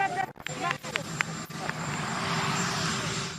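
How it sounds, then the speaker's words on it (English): A helicopter drones loudly and continuously through an outdoor press moment with the US president, its steady engine and rotor noise rising over someone briefly talking. "A little bit of competition from the chopper and the sound"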